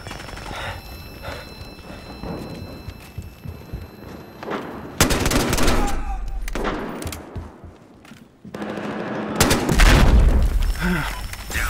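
Bursts of SA-58 OSW rifle fire in Battlefield Hardline, loud close shots in quick doubled pairs and short rattling strings, mixed with booms and distant battle noise, with no talk over them.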